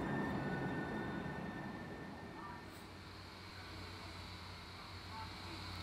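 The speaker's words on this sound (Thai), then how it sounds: "รถไฟมา" A steady, loud rumble of a passing train fills the scene, with distant voices faintly underneath.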